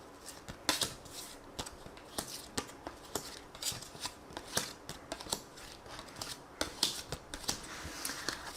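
Tarot cards being shuffled and drawn, a quiet close series of sharp flicks, slaps and riffles in an irregular rhythm, with no voices.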